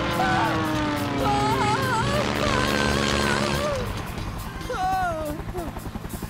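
A cartoon helicopter whirs beneath animated character voices, its rotor drone running under the dialogue throughout.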